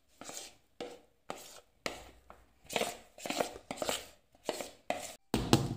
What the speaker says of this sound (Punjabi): ਲਓ ਜੀ ਆਪਾਂ ਇਹਨੂੰ ਟੈਪ ਕਰ ਦਿਆਂਗੇ ਚੰਗੀ ਤਰ੍ਹਾਂ ਵੀ ਜਿਹੜਾ ਇਹ ਸੈੱਟ ਹੋ ਜਾਏ ਆਪਣਾ ਬੈਟਰ